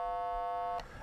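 A Colorino color identifier's light sensor, held in darkness, emits a steady low electronic buzzing tone with rich overtones for about a second, then cuts off abruptly into faint background noise.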